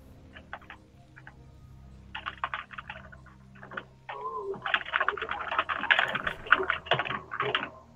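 Computer keyboard typing during an online game match, with bursts of quick clicky keystrokes at first, then denser, louder rapid typing over a low steady hum.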